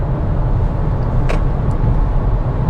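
Inside a 2025 VW Tiguan SEL compact SUV cruising at speed, a steady low road and tire rumble fills the cabin, with a brief click partway through.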